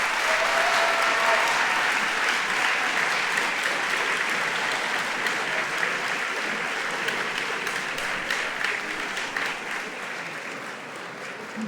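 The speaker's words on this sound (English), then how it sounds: "Can you give them a round of applause?" An audience at a university hall of fame induction ceremony applauds steadily for nearly twelve seconds, with dense, sustained clapping that fades slightly toward the end.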